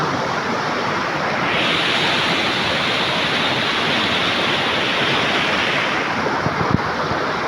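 A river swollen with floodwater after heavy rain rushes past in a dense, steady roar, loud and close, with no pauses and no voices.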